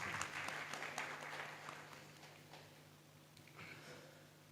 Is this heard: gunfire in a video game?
no